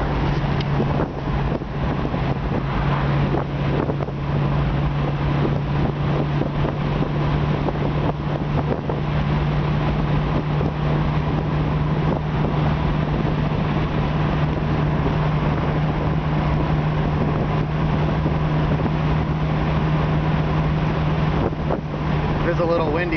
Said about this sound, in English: It's a little windy out, I guess, partly because of the top being down